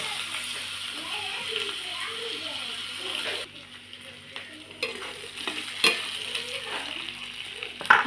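Carrots, beans and other vegetables stir-fry in a pan with a steady close sizzle and scraping stirs, the frying hiss dipping briefly partway through, with voices in the background.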